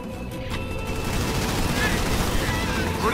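Dense, continuous gunfire from enemy ground troops in a Halo Wars 2 battle on Legendary difficulty, a steady loud crackle of many overlapping shots with no pause across the stretch.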